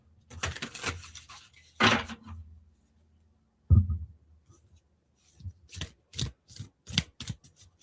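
Tarot cards riffled and shuffled by hand in a few short broken bursts, close and fairly quiet, with pauses and soft handling knocks in between.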